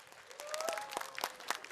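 An audience at a televised Islamic preaching competition applauds for a finalist from Parung: light, scattered clapping under a faint musical tone, fairly quiet and steady throughout.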